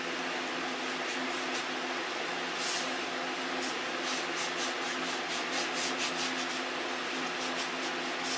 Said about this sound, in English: Let that dry up a minute and then come back and sand it.